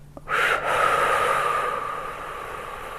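A single long, forceful exhalation during a pelvic floor breathing exercise, breathy and hissing, starting after a brief intake and sustained steadily while slowly fading, close to the microphone.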